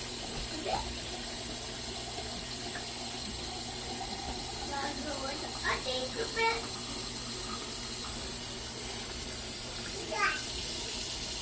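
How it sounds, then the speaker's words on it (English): A cup of water poured into browned ground meat in a pan while cooking wet burritos, a low steady pour and sizzle with a few faint clinks, fairly quiet. "Now that it's all browned, you want to add a cup of water."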